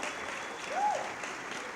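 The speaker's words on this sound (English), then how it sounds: "Let's give her a great big round of applause." A brief, steady burst of many hands clapping as an audience at a community breakfast applauds the keynote speaker, with a faint voice passing under the clapping.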